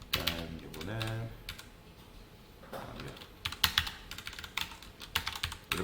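Keys clack as code is typed on a computer keyboard in bursts of quick, close taps. Someone speaks briefly near the start before the typing resumes.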